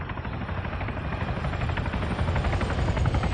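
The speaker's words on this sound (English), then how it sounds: "Sounds like a helo." A military helicopter in Arma 3 approaches overhead, its deep rotor thump and broadband engine roar growing steadily louder and closer, alone without talk.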